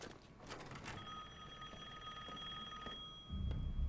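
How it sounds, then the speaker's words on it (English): In Resident Evil Village on PS5, an old telephone rings faintly in the game world with a thin, metallic bell tone over low ambient rumble, ending with a soft, dull thump. "And there's a phone ringing."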